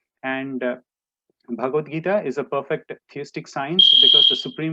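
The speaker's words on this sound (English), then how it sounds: "that was a fire alarm" A smoke or fire alarm beeps loudly for about half a second, a steady high tone cutting in over a man lecturing on the Bhagavad Gita, who keeps talking through it.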